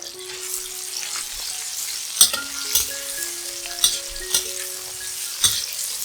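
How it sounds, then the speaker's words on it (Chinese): Cherry tomatoes and shimeji mushrooms stir-fry in a pan, a steady close sizzle punctuated by sharp clacks and scrapes of the spatula at irregular intervals, with faint background tones running beneath. "小番茄炒香， 放入蟹味菇炒一炒"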